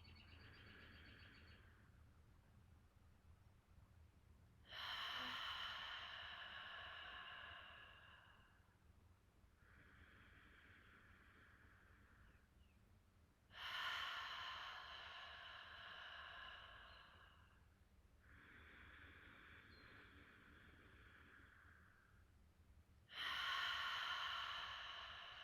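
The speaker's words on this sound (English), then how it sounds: "We'll try 3 breaths again." Deep yoga belly breathing, heard alone and close: three slow cycles, each a sharp, airy inhale followed by a longer, softer exhale.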